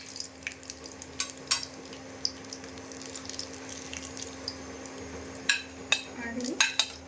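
Dried red chillies and bay leaf frying in hot oil in a pot with cloves, a soft steady sizzle under scattered clicks and scrapes of stirring, with a louder clatter of utensils near the end.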